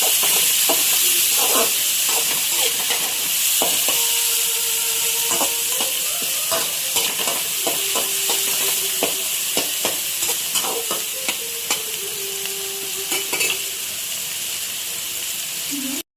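Onions sizzle and fry in a pan for paneer fried rice, a constant loud hiss throughout with occasional stirring clatters and utensil scrapes.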